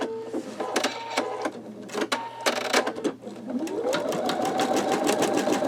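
After a string of sharp mechanical clicks and taps, an embroidery machine winds up into a steady, rapid stitching hum while sewing a skull design.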